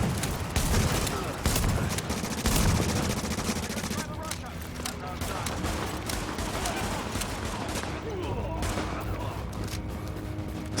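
Gunfire from The Division crackles in dense rapid bursts, heavier in the first few seconds and then in sparser volleys amid game noise, with someone talking over it.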